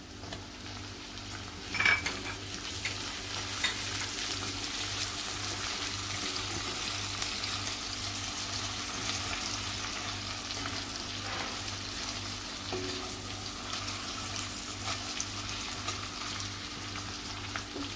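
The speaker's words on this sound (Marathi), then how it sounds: "आता टोमॅटो घालते थोडा तेलावरती" Tomato pieces frying in oil for a Marathi val birde (field bean curry), giving a steady low sizzle and crackle throughout with occasional utensil clinks, no talking.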